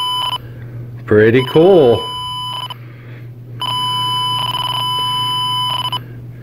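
A Garrett Pro-Pointer AT pinpointer beeps through a Z-Lynk wireless link: short electronic tone bursts, then a long steady pulsing tone, loud and close, with a brief spoken remark in between.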